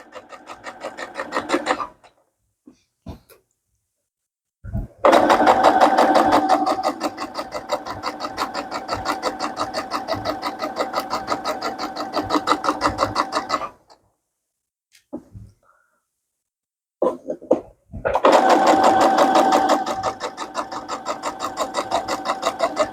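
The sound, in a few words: sewing machine stitching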